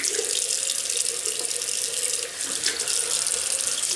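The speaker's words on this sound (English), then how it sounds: "rinse the hands" Tap water runs steadily into a sink as hands are rinsed under it, a close continuous hiss with slight splashing changes and no voices.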